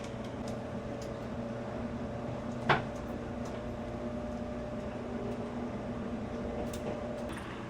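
Doors close on the Limited Express Kirishima at a station in Japan: one short, sharp thud stands out over the steady low hum of the idling train.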